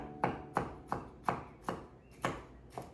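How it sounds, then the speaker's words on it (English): A knife chops walnuts into small pieces on a board in seven crisp, fairly evenly spaced strikes, close and distinct with quiet gaps between them. "So we're chopping up the walnuts really small because that's how we like it."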